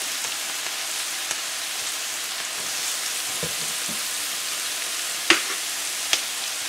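Black-eyed peas frying in a pot, a steady close sizzle and hiss like light rain, broken by a few soft knocks and one sharp clack of a utensil against the pot.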